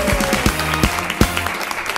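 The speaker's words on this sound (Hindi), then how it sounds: "जोरदार तालियां" A studio audience claps on an Indian TV quiz show after a correct first answer. Steady applause runs under low musical tones, with a few sharper hits standing out.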